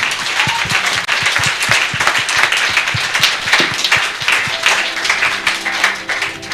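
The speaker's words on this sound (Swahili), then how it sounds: "Pigie Yesu makofi." A church congregation claps for Jesus after a prayer at a sermon by Apostle Ndura Waruinge, loud and sustained with many overlapping hand claps forming steady applause for the whole stretch.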